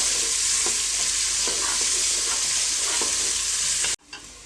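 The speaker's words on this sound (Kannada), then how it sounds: "ಈರುಳ್ಳಿನ ಒಂದು ಸ್ವಲ್ಪ ಬ್ರೌನ್ ಕಲರ್ ಬರೋವರೆಗೂ ಸ್ವಲ್ಪ ಫ್ರೈ ಮಾಡ್ಕೊಳ್ಳಿ" Onions frying in hot oil for paneer biryani, a loud, dense, continuous sizzle with faint stirring taps, cut off abruptly near the end.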